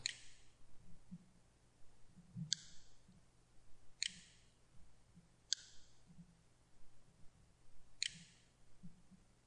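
A computer mouse clicks sharply about five times at irregular intervals while browsing a website, each click crisp and close over a low background hum.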